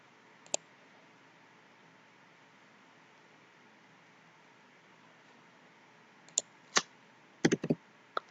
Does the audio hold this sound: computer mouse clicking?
yes